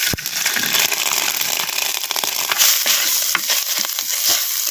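Grated coconut fries in sesame oil in a clay pot for a Chettinad vatha kuzhambu, giving continuous loud crackling and scraping stirring with irregular sharp taps close by.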